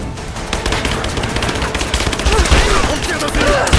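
Rapid gunfire rattles in Rise of the Tomb Raider, a dense, continuous fusillade of close automatic shots with sharp cracks layered over one another and no pause for the full stretch.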